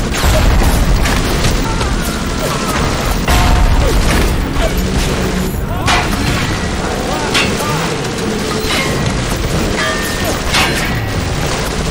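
A dense, continuous barrage of loud booms and crashing blasts fills the scene as proximity mines detonate around target dummies in Bioshock, with heavy low rumble throughout.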